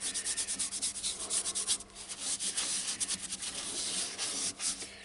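A cloth rubs finishing product into a turned wooden pork pie pot, giving steady back-and-forth scrubbing strokes close up that pause briefly midway and then resume.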